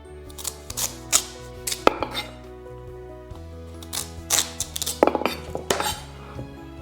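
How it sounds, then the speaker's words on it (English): A knife cutting the ends off a Hokkaido pumpkin on a board, a series of sharp chops and clacks in irregular clusters, close and clear, with no talking. "now we'll start with the Hokkaido pumpkin. First, cut off the ends."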